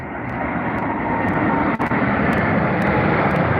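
Air India Boeing 787 Dreamliner jet taking off from London Heathrow at night, a loud, steady broadband engine roar that holds continuously and close throughout, with no voices over it.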